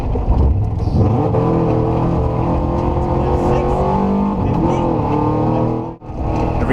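Rally car engine held at high revs during a forest rally stage in southern Ohio, with the engine threatening to stall: a loud, continuous, droning roar with rising and falling pitch and a brief dip near the end.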